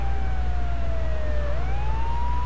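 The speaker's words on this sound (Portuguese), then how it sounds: "Eu tô com a sirene ligada aqui" A fire truck siren in GTA 3 Definitive Edition wails loud and steady, its pitch gliding down and then rising again over a constant low engine drone, with no voices.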